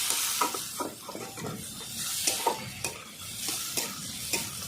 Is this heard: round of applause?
no